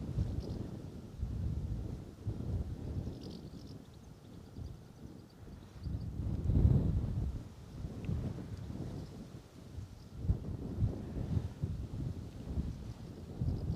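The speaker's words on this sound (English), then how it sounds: "It is windy though." Gusty wind at Bristol Airport buffets the microphone with low rumbling surges that rise and fall continuously, no voices present.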